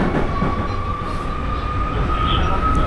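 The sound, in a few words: Berlin metro train coming into the station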